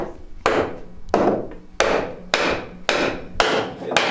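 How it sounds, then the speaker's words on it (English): Wooden wedge hammered in under a timber-frame post supporting the middle of a house, seven sharp, ringing blows at a steady pace, close and loud with short decays and no talking. "hammering in the wedge so that the post supports the middle of the house properly again"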